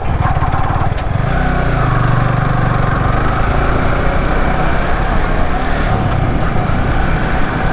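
A motorcycle rides along a road, its engine a loud, constant buzzing drone mixed with rushing wind and no breaks, and nobody speaks.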